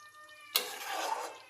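Water poured in small amounts onto 600 grams of meat and potatoes braising in a pan, giving a sudden splashy hiss that settles into a steady bubbling sizzle for under a second before fading.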